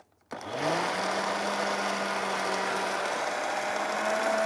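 A blender whirs steadily, mixing sugar with liquids for homemade condensed milk, starting abruptly after a brief silence and holding a loud, even motor drone close by with no talk over it.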